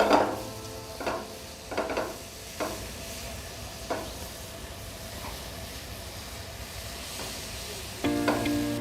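Onion tomato gravy seasoned with kasuri methi, jeera powder, salt and butter cooks on a medium flame, a steady soft sizzle broken by several scraping stirs of a spoon, close and fairly loud, with no talking.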